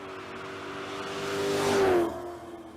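A Pontiac GTO and a BMW drag race down the track, engines revving hard and building to a loud, near pass around two seconds before fading away.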